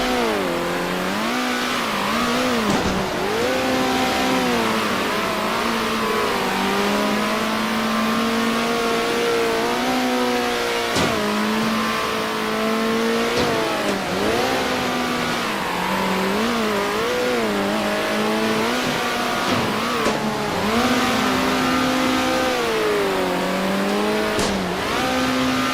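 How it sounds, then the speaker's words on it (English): A racing car engine revs continuously and loudly, its pitch rising and falling with gear changes and throttle lifts, up close throughout. "Is the engine noise too loud?"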